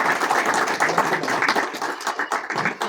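A group of people clapping their hands together at a goat sale, a brisk dense patter of many hands up close, with no talk.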